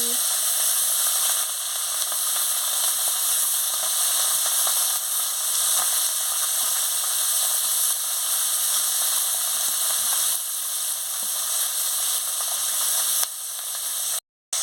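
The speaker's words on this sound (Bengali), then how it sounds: "তেল গরম হয়ে গেছে, মাছগুলো দিয়ে দিচ্ছি।" Small chuna fish fry in hot oil in a wok with a steady, loud sizzling hiss that keeps going for the whole clip, close to the pan, before a sudden cutoff at the end.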